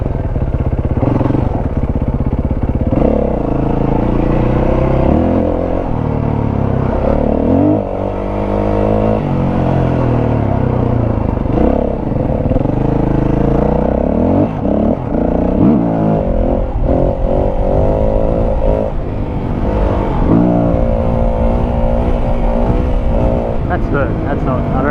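Yamaha WR450F dirt bike engine revving hard while riding, with continuous loud throttle swells and pitch swings as it accelerates and pops wheelies, close and dominant, with a rider talking over it.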